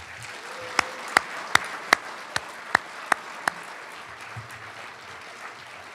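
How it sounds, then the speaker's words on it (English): At a medals ceremony honoring scholars, a few sharp, evenly spaced claps ring out one after another, about eight in a row, fairly faint and spare rather than a full crowd ovation. "Please join me in a round of applause for our scholars."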